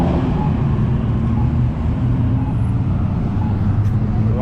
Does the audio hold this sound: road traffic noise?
yes